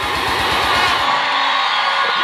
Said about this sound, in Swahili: Naomba makofi ya kutosha kwa mwenyekiti wetu.